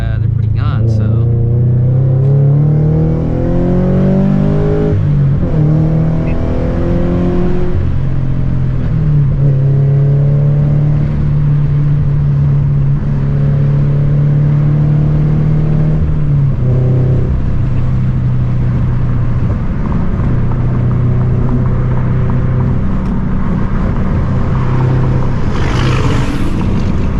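A Toyota 86 with an aftermarket eBay exhaust revs repeatedly, its loud, close engine note climbing and falling, with a few sharp pops; a person talks over it at times.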